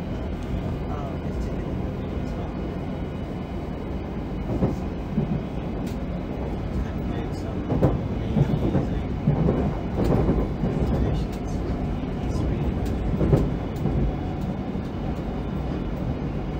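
A London Underground Metropolitan line train runs between Amersham and Aldgate, giving a steady rumble and rattle of wheels on rails from the driver's cab, with someone talking over it.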